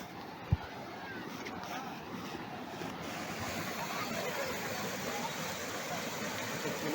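Rushing water of a mountain stream on a slippery rocky trail near Vattakanal, Kodaikanal, a steady broadband roar that holds throughout, with a single sharp knock near the start.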